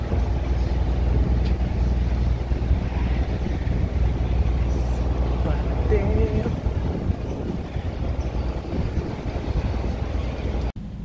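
A roll-on roll-off ferry's engines drone in a deep, steady rumble, with wind buffeting across the recording.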